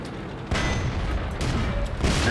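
Tank shells hit in World of Tanks in heavy booming bursts, three sharp impacts rising out of a dense, rumbling battle din.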